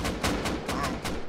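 Gunfire in the survival video game Rust comes as five rapid, evenly spaced shots in quick succession, each a sharp loud crack over a constant rough background, with no talking.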